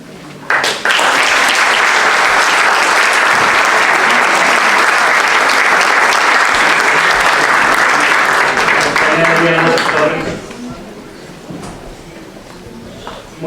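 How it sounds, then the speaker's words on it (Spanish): A crowd at an Emiliano Zapata anniversary event at a journalists' club bursts into loud, sustained applause for speaker Rocío for about ten seconds before it fades out, and a voice then carries on speaking. "Otro aplauso para Rocío"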